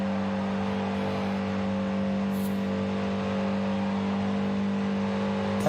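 A 1970 Datsun 510 engine strains hard and constantly at high revs while climbing a hill in Forza Horizon 5, a droning, buzzing whine with no voices.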